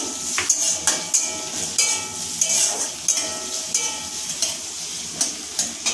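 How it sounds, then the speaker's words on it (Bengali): Garlic cloves and onions frying in a pan for a snake gourd curry, with a steady sizzle and repeated scraping and clinking strokes of a spatula against the pan, loud and close, with no talk. "এটা পেঁয়াজের সাথেও নাড়াচাড়া করে নেব"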